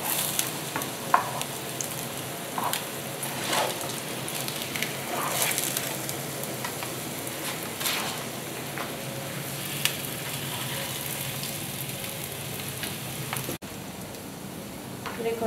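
Patties of meat and potato fry in oil over medium heat, giving a continuous crackling sizzle with occasional utensil taps and stirring sounds, fairly close and steady throughout.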